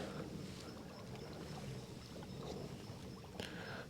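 A pedal kayak turning on open water, a faint steady wash of water and wind with a few soft knocks and splashes, quiet and distant-sounding with no talk.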